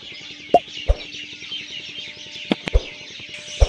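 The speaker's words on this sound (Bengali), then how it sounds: "আর পাখির ডাক শুনতেই পাচ্ছেন," A bird calls repeatedly in the Sundarbans mangrove forest, its loud, sharp clucking notes arriving in short, irregular bursts over a steady background of insect or bird chatter.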